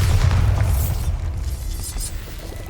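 A deep, rumbling boom with a lingering low roar from a Bombarda blast spell in Hogwarts Legacy on PS5, loud and sustained before slowly tapering off.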